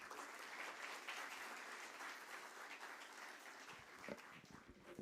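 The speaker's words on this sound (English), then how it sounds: "Don't you think this deserves another round of applause?" An audience applauds at a corporate stock listing ceremony for Epack Prefab Technologies, dense steady clapping from a large crowd that thins slightly near the end with a few scattered louder claps.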